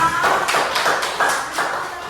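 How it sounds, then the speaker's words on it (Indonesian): A classroom of students applauds a classmate during a peer-teaching lesson, a dense wash of many hands clapping at once with soft rhythmic swells, fairly loud and close. "Tepuk tangan untuk Bima."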